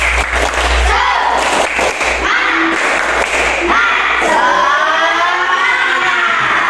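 A classroom group stands and does a rhythmic spirit clap, sharp claps punctuating loud chanted voices that carry through most of the stretch.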